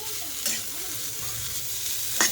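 Broccoli frying in garlic butter over low heat is stirred around a pan, a steady close sizzle broken by a few sharp scraping clinks of the utensil.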